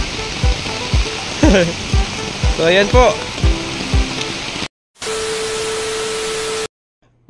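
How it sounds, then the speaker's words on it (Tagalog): Heavy rain from Typhoon Enteng falls amid street flooding, a steady broadband hiss running beneath close speech before it cuts to a steady hum and then silence. "Ayan, lakas ng ulan."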